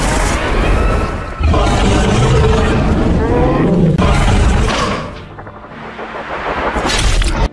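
A monster film's desert creature, Diablos, lets out a loud, thunderous roar that dominates the scene, surging in long heavy bursts with crashing, rumbling layers and a brief dip before swelling again.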